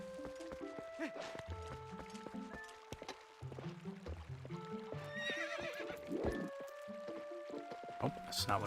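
Horse neighs and whinnies from The Legend of Zelda: Twilight Princess, with clip-clop hooves, rising over game music and sound effects, loud near the middle of the stretch.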